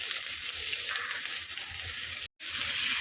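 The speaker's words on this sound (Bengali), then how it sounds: "ভালো করে ভেজে নিচ্ছি" Potatoes and onions frying in a pan for a drumstick curry make a steady, close sizzle with bright hiss throughout and a brief dropout near the end.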